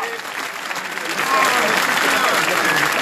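Crowd of students and striking rail workers applauding at an occupied university strike meeting, a dense steady wash of clapping that swells after the first second and holds loud to the end.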